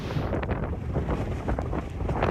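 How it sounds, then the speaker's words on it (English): A massive wedge tornado crossing a road in Iowa gives a steady, loud roaring rush, like heavy wind buffeting the microphone, continuous with no breaks and no voices. "you can hear this tornado as this massive wedge crosses over a road over in Heartland, Iowa on Friday"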